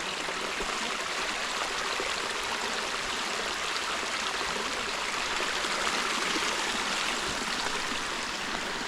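A stream at Duvili Ella near Balangoda flows downhill over rocky ground in a steady, full rush of water that stays loud and even throughout, with no voices.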